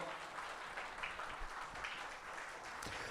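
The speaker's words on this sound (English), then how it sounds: "can we have more louder applause?" An audience at an HR summit panel session claps continuously, a dense, even wash of many hands heard fairly faint and distant, with no voices over it.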